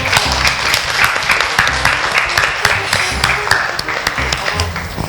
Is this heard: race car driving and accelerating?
no